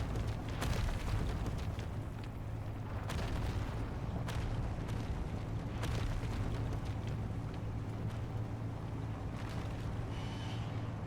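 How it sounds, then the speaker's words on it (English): Repeated deep booms and rumbling blasts of meteors landing in a video game roll on continuously under a steady low hum, loud and dense with scattered sharper cracks throughout. "As the explosions of meteors landing behind me continue"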